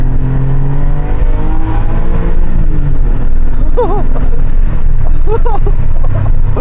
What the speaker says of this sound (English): I want you to hear my modified exhaust.